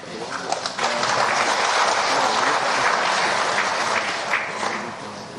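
Audience applause at a provincial election commission ceremony in West Java, loud sustained clapping from a large crowd, steady throughout and easing slightly at the end.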